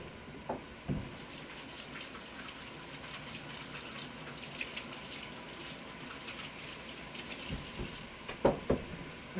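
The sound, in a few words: washing hands under running tap water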